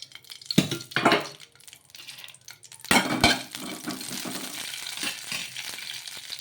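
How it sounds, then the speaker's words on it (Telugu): Green chilies frying in a little oil in a pan while being stirred, with clattering of utensil against the pan, scraping and a soft sizzle throughout. "ఇప్పుడు కారానికి తగ్గట్టు పచ్చిమిర్చి కూడా వేసుకొని కొద్దిగా నూనె అనేది వేసేసుకొని ఈ పచ్చిమిర్చిని మగ్గించుకుందాము"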